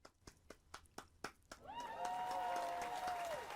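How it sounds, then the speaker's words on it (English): A studio audience greets a healthcare talk-show guest: a few separate, sharp claps ring out first, then a fuller burst of applause swells in and holds, with a faint tonal sound running underneath. "There's our applause."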